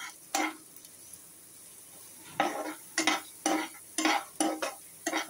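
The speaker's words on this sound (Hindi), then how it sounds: "इसको अच्छे से मिक्स करना है।" A spoon stirs a paste of garlic, ginger, potato and cumin in a hot pan, giving a soft sizzle broken by about eight short scraping bursts that come faster toward the end, close and moderately loud with no talk.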